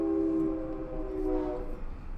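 Steady rolling train rumble with sustained tonal hum from a train in the video game Seasons After Fall, continuous and fairly loud throughout with no talking.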